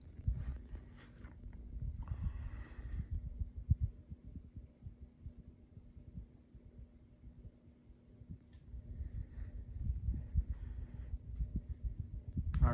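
A Harbor Breeze Classic 52-inch ceiling fan running on speed 3 gives a faint, steady low hum with a soft rhythmic throbbing and a few light rattles on top.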